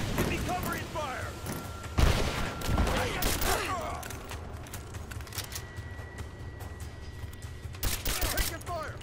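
Gunfire in Rise of the Tomb Raider crackles in rapid bursts and sharp single shots, mixed with game clatter and voices, loud near the start and again near the end.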